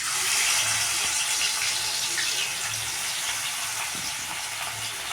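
Potato skins frying in hot oil as chips, a steady, dense sizzling hiss that stays loud and close throughout with no talk.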